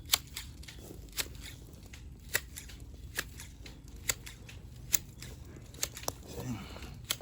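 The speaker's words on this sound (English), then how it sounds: "Scissors makes the cleanest cut" Hand shears snip a boxwood shrub being shaped into topiary, a string of crisp, sharp clicks and cuts at irregular intervals, close and fairly quiet over a soft outdoor background.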